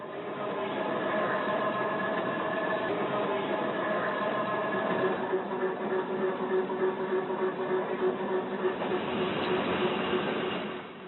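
An electric Brussels–Tervuren train rumbles steadily along the tracks beside SNCB lines, a continuous rolling drone with faint rhythmic clatter and a tonal hum, no voices.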